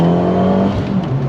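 An Abarth tuned to stage 3+ pulls hard in sport mode, its engine note loud and close with a steady low drone that shifts and rises partway through the short burst of acceleration.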